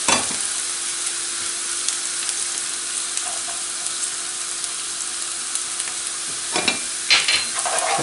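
Garlic dropped into a pan of golden, browned onion fries with a steady close sizzle, and a few scraping stirs break through near the end.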